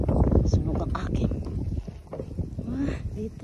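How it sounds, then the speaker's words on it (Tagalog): Strong wind buffeting a microphone on a high outdoor stairway during a stair climb, a loud, continuous roar and rumble with a speaking voice faintly underneath. "Kaya lang malakas ang hangin."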